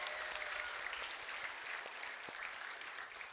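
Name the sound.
audience applause of thanks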